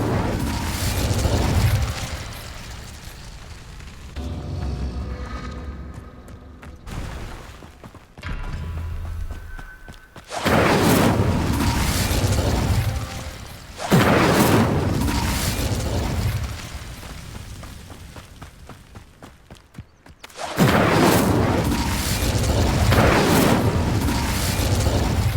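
Spell effects from the Hogwarts Legacy video game, including the Incendio fire spell, come as loud whooshing bursts and booms separated by quieter gaps, over a continuous game soundscape.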